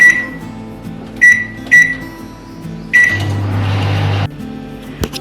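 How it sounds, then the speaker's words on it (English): A kitchen microwave oven, beeping sharply several times as buttons are pressed, then the door shuts and a loud low hum starts and runs for about a second before a final beep. "we're going to pop it in the microwave"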